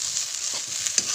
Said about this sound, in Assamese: ভাত ভজা